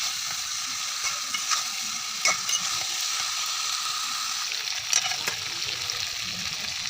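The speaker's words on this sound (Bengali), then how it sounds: "কাঁঠালের বিচি আর মুরগির মাংস ভেজে রাখলাম, ওগুলো সব দিয়ে দিই একসাথেই" Chicken pieces and jackfruit seeds fry in spice paste in a pan, a constant close sizzle broken by occasional scraping clicks of stirring, loud and alone without any voices.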